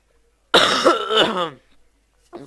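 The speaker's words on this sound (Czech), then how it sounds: "Musel jsem si odkašlat." A man clears his throat and coughs once loudly and close, a harsh raspy burst lasting about a second that trails off into a quieter rasp, followed by a brief short sound after a pause.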